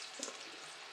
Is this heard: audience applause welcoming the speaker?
no